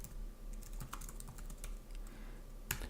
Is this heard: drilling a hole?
no